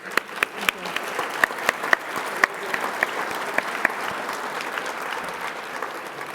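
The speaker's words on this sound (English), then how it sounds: "Let's give them a round of applause one more time" An audience at a financial outlook conference applauds a panel with sustained, even clapping, a few close sharp claps cutting through the crowd, while faint voices murmur underneath.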